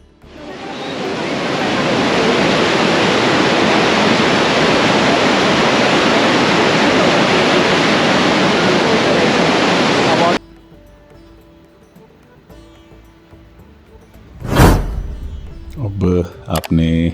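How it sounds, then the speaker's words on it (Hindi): Parvati river rushing past, a loud, dense, continuous roar of flowing water close by, then cutting off abruptly to quieter background with a sudden bump and scattered sounds. "पहले मैं आपको नदी की आवाज़ सुनाता हूँ।"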